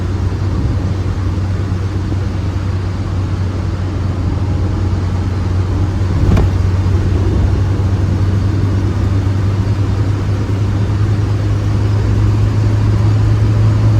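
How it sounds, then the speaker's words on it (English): The four-cylinder engine of a 1975 BMW 1602 hums steadily from inside the cabin over a constant low drone of road noise, with one brief thump partway through. "Nice revvy little 4-pot engine on it."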